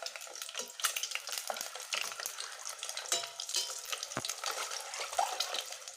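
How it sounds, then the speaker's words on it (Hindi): Masala for egg and cauliflower kadhi frying in a pan, a continuous bright sizzle with crackling pops and occasional stirring scrapes, close and fairly loud without any talk. "अब मैं इसको फ्राई कर लेती हूँ"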